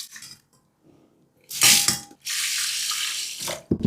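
Water is poured over rice being polished in a bowl for temaki. Soft scraping is followed by a sudden splashing rush, then a sustained hiss of running water. No voices are heard.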